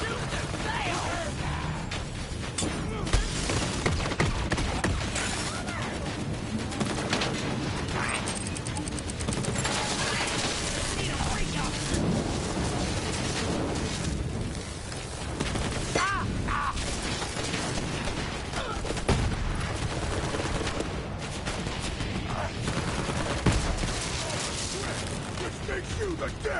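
Dense, continuous gunfire rattles throughout a Bounty of Blood shootout, a space-western video game, with a steady barrage of shots and mechanical clatter layered over game sounds.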